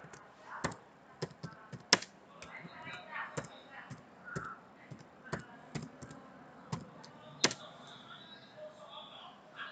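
Someone types data into a spreadsheet on a computer keyboard, giving irregular sharp key taps and occasional louder strikes, close and fairly quiet, with a voice talking softly underneath.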